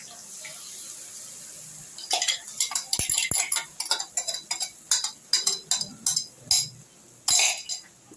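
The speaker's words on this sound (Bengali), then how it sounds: "চিংড়ি মাছটা একটু নাড়াচাড়া করে নেব।" A spoon stirs minced prawns and ridge gourd paste in a pan, giving repeated clinks and scrapes in an irregular rhythm after a quiet start.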